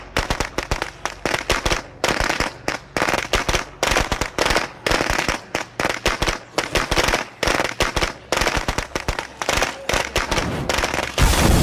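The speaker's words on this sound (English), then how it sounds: "I haven't used fireworks for quite some time" Fireworks set off in the zombie survival video game State of Decay 2 to lure zombies to a door: loud, dense crackling bursts and pops that fire in rapid, irregular clusters for several seconds with short gaps.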